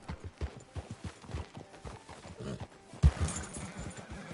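Horse hooves clop steadily in Red Dead Redemption 2, a rhythmic run of close, fairly loud hoofbeats that carries on alone for several seconds before a sharp thump and busier noise near the end.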